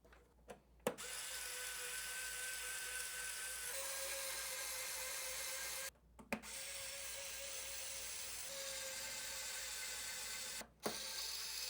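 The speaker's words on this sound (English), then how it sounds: "Next, install the screws to hold down the data cables." A powered screwdriver drives screws that hold down data cables on a Snapmaker U1 3D printer, whirring steadily in long runs separated by brief pauses, close and clear.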